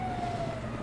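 A police car siren wails in the LSPDFR video game, a loud continuous electronic tone holding steady over a low engine rumble.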